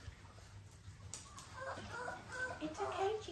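A hen clucks and murmurs in soft, irregular bursts on a farm, close by and growing a little louder, with a person talking gently nearby.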